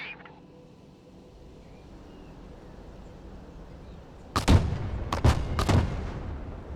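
Creeping artillery barrage in the Broken Arrow war game: after a quiet stretch, a cluster of sharp booming impacts lands in quick succession, three or four loud blasts with rumbling tails close together.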